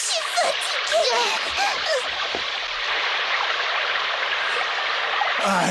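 Steady rushing river water fills the scene in a cartoon, a continuous broadband wash with a few faint voice-like sounds near the start.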